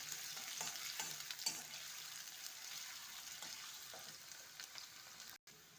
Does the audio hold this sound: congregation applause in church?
no